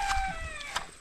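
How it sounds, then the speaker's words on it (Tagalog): Brief chicken sounds beside a rice field, a drawn-out crowing note with a few short clucks, heard at moderate distance over a quiet outdoor background. "Oh, may mga manok dyan."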